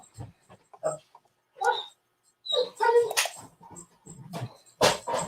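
A dog whimpers and gives short yips and barks in a room, intermittent bursts close by, mixed with faint background noise.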